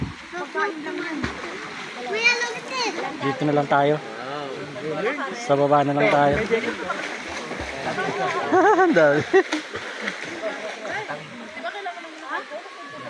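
River water rushes and splashes at a crowded provincial river in the Philippines, a steady broad wash under loud nearby chatter and shouting voices from many people.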